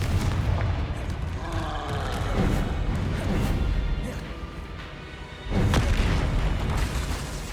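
Confringo explosive spell cast in Hogwarts Legacy on PS5: a series of loud booming blasts and crashes, with a heavy burst near the end over a dense rumbling game backdrop.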